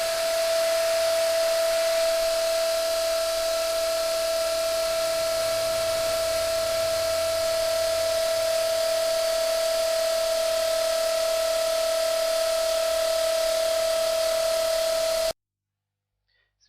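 A 12-volt pump drones steadily while forcing fresh automatic transmission oil into a McLaren SLR 722, a constant loud whine holding an even pitch for about fifteen seconds before cutting off abruptly.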